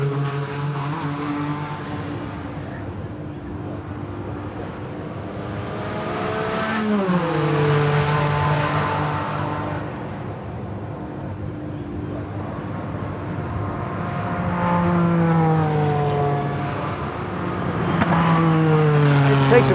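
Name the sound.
Porsche WSC-95 race car driving at Goodwood circuit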